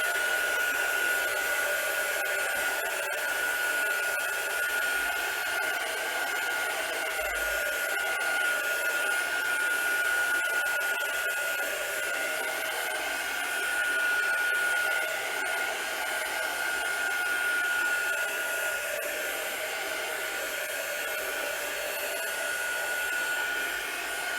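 A hair dryer blows steadily on a tea-dyed paper card for the whole stretch, with a constant close whine and airy roar and no pauses.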